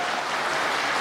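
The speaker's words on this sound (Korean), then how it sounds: "박수 한 번 더 주세요" Applause from the crowd at a political party leadership debate in Daegu and Gyeongbuk, a dense, steady wash of many hands clapping at close range for about a second with no voices.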